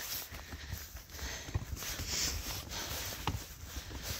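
A few faint hoof clops from a horse walking along a corridor, spaced apart under steady background noise in an echoing space.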